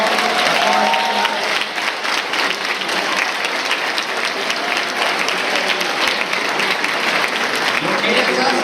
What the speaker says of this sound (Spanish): Vamos a darles un fuerte aplauso a todas ellas